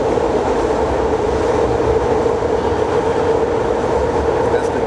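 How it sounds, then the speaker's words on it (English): A passing train in Kensington, Philadelphia, rumbling loud and steady for the whole stretch, with no voices over it. "That's the demon train."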